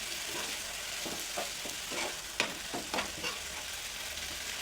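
Matki (moth beans) stirred and sautéed in a pan for a Maharashtrian matki usal, a steady soft sizzle with repeated scraping strokes of the spoon at close range, no voices.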